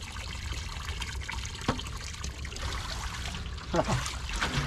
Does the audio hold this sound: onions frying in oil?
no